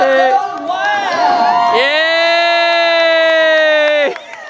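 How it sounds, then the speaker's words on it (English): A crowd at a polo tournament cheers after a goal, led by a loud, close, sustained high-pitched whoop that holds for a couple of seconds over the broader noise of the crowd. "The crowd goes wild!"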